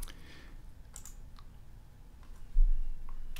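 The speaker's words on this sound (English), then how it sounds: "Then I'll click OK on that one." A single mouse click on an OK button in a FileMaker database window, a short dry tick standing alone in a quiet room.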